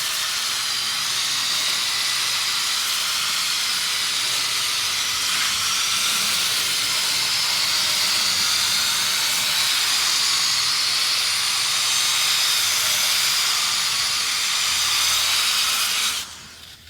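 A pressure washer sprays floor mats with a steady, loud, broadband hiss that runs unbroken for about sixteen seconds before cutting off abruptly, close up with no talking.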